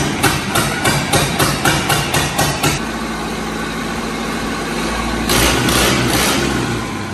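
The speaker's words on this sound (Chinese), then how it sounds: "直接搬来电瓶开始进行点火" An old, rusty second-hand Cat 215 excavator engine is started from a battery: a series of rapid, loud clattering beats at first, then a steady low rumble of the running engine, rising again near the end.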